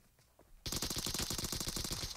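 Sustained automatic gunfire in PUBG Mobile during a tournament match, a loud continuous rapid rattle of shots that bursts in after a quiet start and keeps going to the end.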